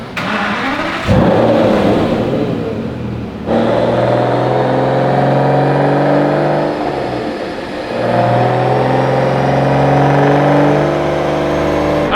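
Ferrari 458 engine revving on a dyno, a loud sustained mid-pitched drone that swells and dips through repeated rev cycles with no voices.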